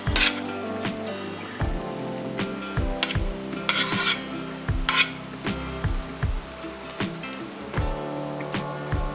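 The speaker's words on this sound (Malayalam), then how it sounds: "നമുക്കിനി ഇതിലേക്കിനി ചോറിട്ട് കൊടുക്കാം." A spoon scrapes and clinks against a pot as three-quarter-cooked ration rice is stirred into vegetable biryani, giving steady metallic taps and scrapes at close range over a faint sizzle, with no voices.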